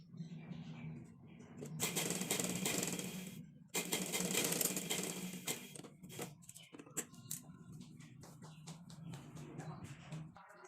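A sewing machine stitches a baby frock in bursts of rapid mechanical clatter separated by short pauses, with quieter fabric handling and small clicks between runs.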